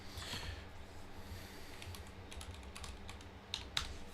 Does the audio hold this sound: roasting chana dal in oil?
no